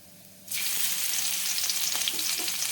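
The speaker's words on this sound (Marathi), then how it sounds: "जिरे हे छान आता फुटू द्यायचं आहे" Cumin seeds crackle and fry in hot oil for a Maharashtrian mixed vegetable dish, a loud steady sizzle starting abruptly after a quiet moment and continuing with scattered pops, close and alone without talk.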